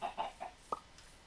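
A Minecraft chicken clucks after laying an egg: three quick, close clucks followed by a short, sharp pop-like squawk, with no talking.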